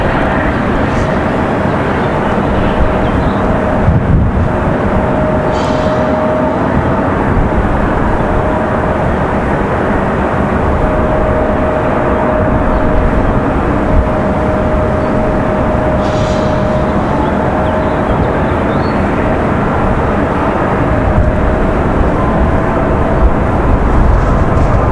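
A plane arriving to land at Raleigh-Durham airport, a loud sustained engine roar with a steady hum holding throughout, heard outdoors from nearby.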